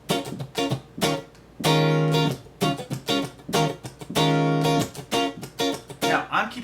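Electric guitar strummed in a funky groove, sharp rhythmic chord chops broken by two long ringing strums and muted triple-hit strokes that miss the strings, close and loud with no talking.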